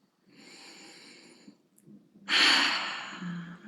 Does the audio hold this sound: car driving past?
no